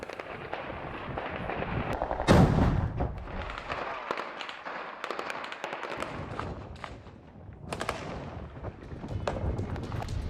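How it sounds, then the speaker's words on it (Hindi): Artillery firing during the Russian-Belarusian Zapad 2025 military exercise: a continuous roar of blasts and rumble, with one heavy close boom early on and sustained loud, dense firing throughout. "आर्टिलरी से युद्ध अभ्यास किया।"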